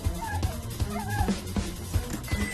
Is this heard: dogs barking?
yes